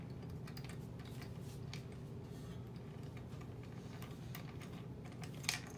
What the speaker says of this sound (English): we're going to start to unscrew the bolt handle